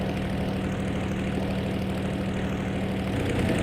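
A Curtiss P-40E Warhawk's piston engine being run up to 2,300 RPM on the ground: a loud, steady, close propeller roar with a constant low drone throughout and no voices.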